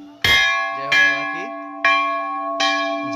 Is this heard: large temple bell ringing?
yes